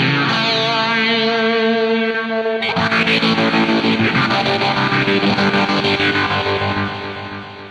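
Electric guitar through a Zoom G6 multi-effects processor, starting with clean ringing chords before the distortion effect kicks in, turning the sound into a loud, dense, gritty wash of strummed chords that fades out at the end.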